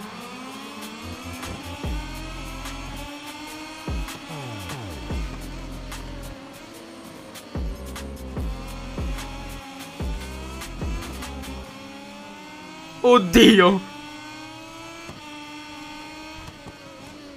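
In the MotoGP 22 video game, Moto2 race motorcycles rev and accelerate off the start line, engines whining through rising gear changes in overlapping layers. A voice gives a short exclamation near the end.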